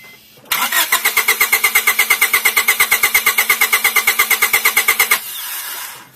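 An engine cranks over steadily on the starter during a compression test, giving about thirty even, rapid chugging strokes. The cranking is loud and close, starts abruptly, then stops and leaves a fading hum.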